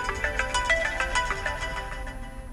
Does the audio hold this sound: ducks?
no